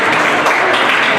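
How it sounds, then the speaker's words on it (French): A crowd at the prize ceremony of the 32nd Louch race in Isola claps in a brief, dense burst of applause that stays fairly loud and even throughout. "Ils sont bons les applaudissements là."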